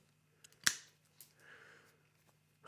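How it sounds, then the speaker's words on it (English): A Japanese Hosan cable cutter snips a bike cable during a 1987 Peugeot road bike upgrade, giving one sharp, close click against a quiet background, followed by faint handling noise. "We're just gonna snip it off right there."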